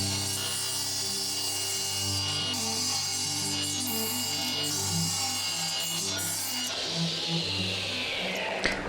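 Saw working steadily through long 25-inch wooden strips for a DIY American flag build, a continuous rasping cut against a low motor hum, ending with a brief knock near the finish.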